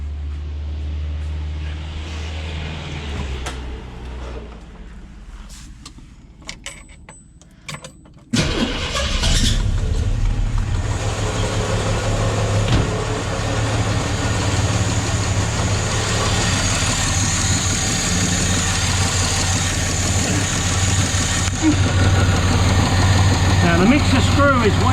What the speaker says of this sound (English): So let me fire this baby up again